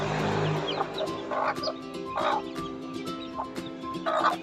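Backyard hens, a brown one and a white one, each with thirteen newly hatched chicks, cluck in short bursts while thin chick peeps run steadily underneath, close and moderately loud.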